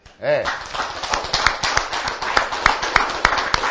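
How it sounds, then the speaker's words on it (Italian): Children at a cycling race event clap for their mothers, quick scattered claps joining after a brief tone, with a voice speaking over the applause. "Come facciamo un applauso alle mamme?"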